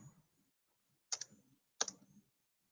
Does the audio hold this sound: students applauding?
no